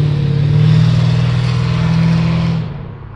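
A Ford Mustang engine roars loudly past on a street, a strong sustained drone that holds for over two seconds and then drops away as the car moves off.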